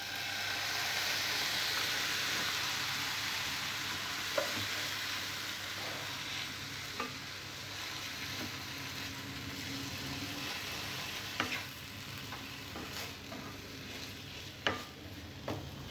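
Fried grated carrot is stirred with sugar and a little milk in a frying pan for carrot laddu: a continuous soft sizzle with occasional spoon scrapes against the pan at irregular intervals.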